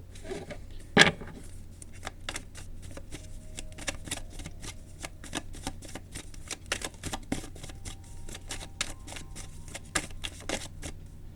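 Tarot cards are handled and slid back into a deck, giving a run of soft, quick papery flicks and riffles with one sharper snap near the start, close and fairly quiet.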